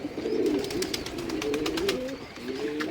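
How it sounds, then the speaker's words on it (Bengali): Pigeons, including grown young birds, coo in a loft in several close, repeated low rolling calls, with light rustling between them. "এই দেখেন কবুতরগুলা মাশাল্লাহ সবাই আসলে ভালো বড় হয়ে গেছে বাচ্চাগুলা"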